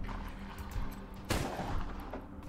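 A single pistol shot in the Wasteland 3 video game cracks out once midway, a sharp loud report over a low, steady game-ambience bed.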